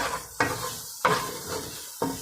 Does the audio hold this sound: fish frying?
yes